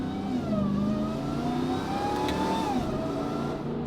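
A RAM TRX pickup engine revving with its Valvetronic muffler valves closed, so the exhaust is muted and a strong intake roar dominates, rising and falling steadily for a few seconds.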